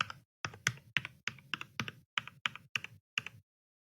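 Typing on a computer keyboard, close and quiet: about a dozen distinct key taps in an uneven rhythm, then silence.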